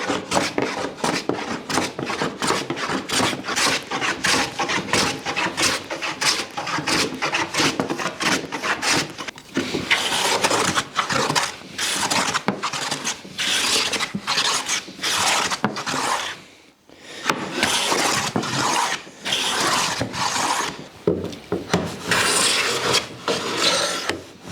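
A hand plane is pushed diagonally across a wooden board in quick, rhythmic rasping strokes that continue close and steadily, with one brief pause midway.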